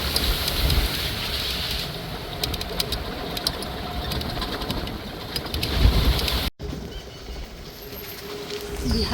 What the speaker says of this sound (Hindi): कितनी खड़म खड़म हो रही है बारिश